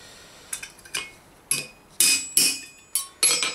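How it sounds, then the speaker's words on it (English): A hammer strikes a centre punch to drive a rivet out of a piece of armour, with about eight sharp metallic taps in an uneven rhythm, close and ringing, with brief quiet between blows. "So all we're going to do is offer up the centre punch."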